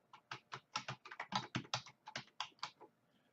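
Fingers tap out a quick run of about fifteen crisp keystrokes on a computer keyboard, close and clear with no talking.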